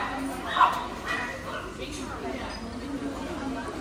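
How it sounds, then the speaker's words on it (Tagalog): Dogs bark outside a home in the Netherlands, a few yips and whimpery barks at moderate distance, mixed in with people talking nearby. "Yung mga aso maingay sa labas."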